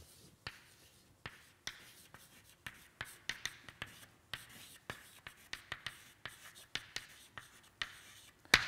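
Chalk or marker strokes writing a name on a board during a chemistry lecture on radical reactions: a run of quiet, irregular taps and scratches with brief pauses, sharper in the middle, in a fairly hushed room.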